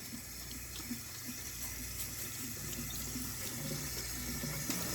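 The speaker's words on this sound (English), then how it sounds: "As you can see, the water is coming out, get clear now." Tap water runs steadily into a sink while rice is rinsed, giving a soft, continuous splash close by with faint shifting as the grains are stirred.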